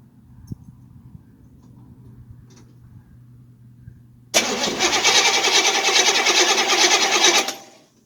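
A Chevy Nova engine, with its coil just plugged in, is quiet at first, then cranks and catches abruptly into a loud, steady running roar that cuts off near the end.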